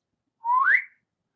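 The LIGO gravitational-wave signal, turned into sound, comes through as a single short whistle that slides upward in pitch, clean and isolated against silence.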